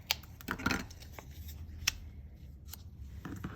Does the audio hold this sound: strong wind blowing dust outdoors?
no